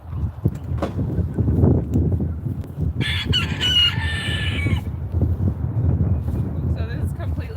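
A chicken clucks and crows repeatedly at close range while its flight feathers are trimmed, the calls running continuously over a steady low background with a burst of higher squawks in the middle.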